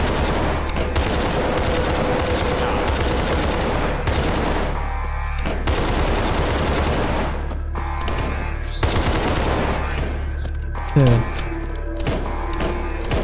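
Sustained machine-gun fire in SCP 5K, rapid close bursts rattling almost without pause through the clip, mixed with thuds and a talking voice.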